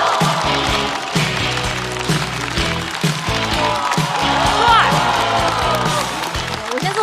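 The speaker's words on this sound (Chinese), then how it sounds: "掌声有请李奇宝" Audience applause and cheering fill a stand-up comedy show as a new comedian is welcomed onstage, a steady, loud wash of clapping and crowd noise with a rhythmic music beat underneath.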